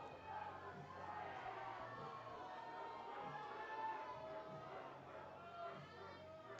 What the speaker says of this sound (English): Crowd is getting hyped.